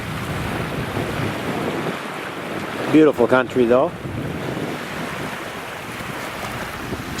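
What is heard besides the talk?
ocean waves crashing on shore, windy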